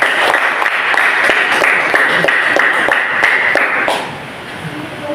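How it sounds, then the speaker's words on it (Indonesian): A classroom group clapping after a student project presentation, brisk steady applause filling most of the clip before tapering off near the end, with talk underneath. "tepuk tangan untuk kelompok"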